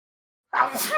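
A single sharp sneeze bursts out after a moment of silence, close and fairly loud.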